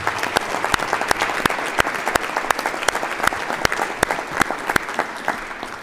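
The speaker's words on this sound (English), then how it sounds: "let's give them one more round of applause for all 3 of them" Audience applause for the elementary, middle and high school Teachers of the Year at a school board of education meeting, a steady round of many hands clapping with sharp individual claps standing out across the whole stretch.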